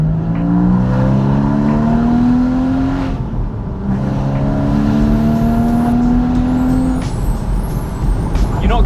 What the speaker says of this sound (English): as I lift off, you get all sorts of pops and crackles